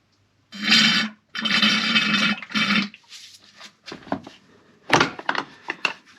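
Power steering fluid from a Ford Focus ST220 pours out in loud splashing gushes, then drips and clatters irregularly nearby.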